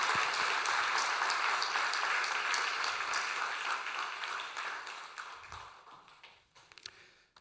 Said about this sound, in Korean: 박수로 크게 축하하도록 하겠습니다